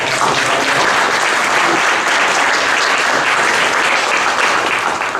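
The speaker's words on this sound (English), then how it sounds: "So huge hand applause to the panelists." Conference audience in the Bay Area applauding a panel discussion, steady dense clapping filling the whole stretch at close, loud level with no talk over it.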